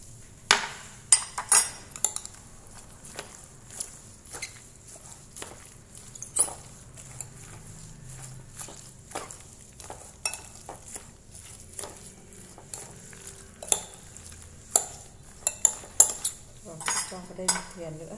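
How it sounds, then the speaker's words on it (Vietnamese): Napa cabbage is tossed with Korean chili powder in a bowl, giving irregular soft clinks and taps of a utensil against the dish, quiet and close over a low background. "Mình sẽ trộn đều cái phần cải thảo này nhé."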